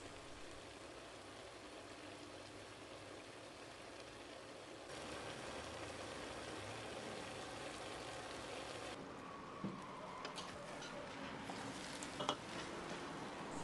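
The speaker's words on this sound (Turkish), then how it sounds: "biberleri zeytinyağı ilavesi yaptıktan sonra orta ateşte 10 dakika boyunca kavuruyorum" A soft, steady sizzle of green peppers frying in olive oil over medium heat, quiet and continuous, with a few faint clinks and stirring sounds toward the end.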